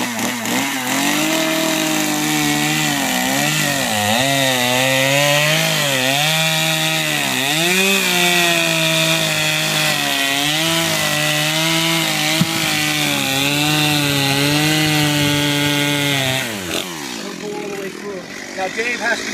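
A chainsaw cuts a miter into a cedar log for a garden planter bed. The close, loud engine rises and falls in pitch as it bites into the wood, runs almost continuously, then drops back to idle near the end.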